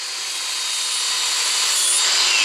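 A grinder fitted with a flap disc deburring the inside of a freshly cut steel pipe, a continuous loud high whine and abrasive grind that builds slightly over its length.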